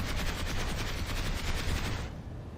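A Light Assault weapon in Planetside 2 fires a fast, continuous automatic burst of gunfire, loud and close, holding a steady rapid rhythm for about two seconds before stopping abruptly.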